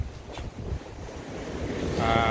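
Ocean waves wash steadily with wind buffeting the microphone, and the surf swells louder toward the end.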